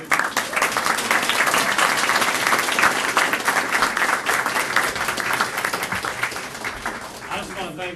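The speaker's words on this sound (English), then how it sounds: "give yourselves a round of applause" Sustained applause from the audience at a school board meeting, a dense room of clapping hands lasting throughout and tapering slightly near the end, with voices mixed in.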